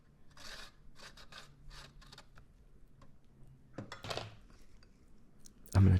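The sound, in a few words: grating radishes on a grater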